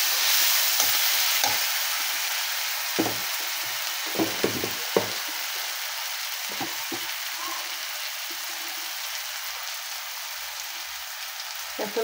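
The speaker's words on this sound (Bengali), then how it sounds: "নেড়ে চেড়ে মিশিয়ে নিতে হবে।" Ginger and garlic paste stirred into mutton in a hot pan for a village-style mutton bhuna, a continuous frying sizzle with scattered soft scraping stir strokes, no voices.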